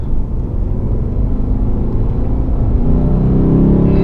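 A 2018 Lexus RC F with a 477 hp engine accelerating from inside the cabin, a deep steady rumble that builds gradually and swells toward the end, loud and close with no talking.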